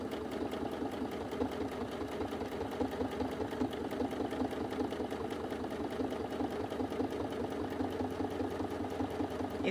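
A sewing machine runs without a break, stitching appliqué fabric in a steady fast rhythm that stays close, even and fairly quiet throughout.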